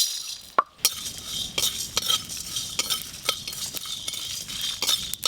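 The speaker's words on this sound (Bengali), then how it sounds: "সব রকম গোটা মশলা ভাজা হচ্ছে" Whole spices—cumin, coriander, black pepper, dried chillies and garam masala—dry roast in a pan, with repeated scraping stirs and light clinks of a utensil at a steady rhythm, close and fairly loud.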